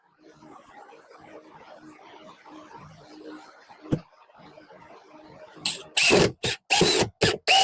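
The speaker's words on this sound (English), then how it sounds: "I'll at least screw this part in." A screw is driven into a scrap wood table, quiet handling and a sharp knock first, then a series of loud grinding bursts from the driver near the end.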